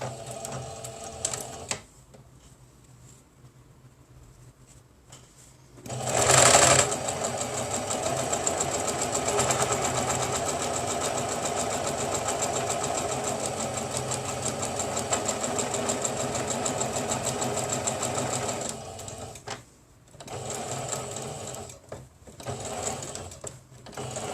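Sewing machine backstitching the seams of a Christmas boot cutlery holder, a loud, steady motor whir that starts after a quiet pause, runs for about fourteen seconds, then stops and restarts in short bursts.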